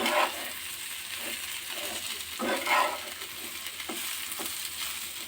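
Eggplant curry frying with turmeric and Kashmiri chili, a continuous close sizzle broken by several scraping stirs of a spatula against the pan, with no talking.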